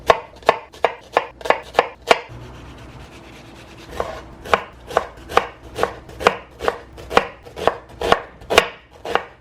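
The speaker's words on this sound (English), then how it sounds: "And then I think I have time to chop some onions" A knife chops onions on a wooden board in quick, regular strokes, close and crisp, pausing briefly for a quieter scraping stretch before the even rhythm resumes.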